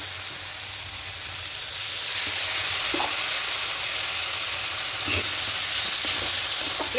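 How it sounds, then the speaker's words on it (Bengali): Ground coriander, cumin and turmeric paste sautéing in a pan for a Bengali cauliflower, potato and egg curry: a steady, close sizzle that grows stronger after the first second, with a few soft scrapes of stirring. "খুব ভালো করে একটু কষিয়ে নেব।"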